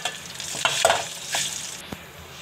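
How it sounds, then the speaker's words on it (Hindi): A spoon stirs vermicelli browning in a pan for sheer khurma, giving soft scraping strokes over a gentle, steady sizzle, close and fairly quiet with no talk. "इसकी मैं चम्मच से घुमाती जाऊंगी और इसे थोड़ी ब्राउन कर लेंगे हम लोग साथ ही में ही।"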